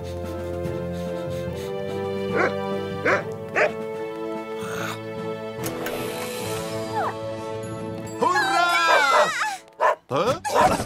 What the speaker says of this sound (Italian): Che bravi cani!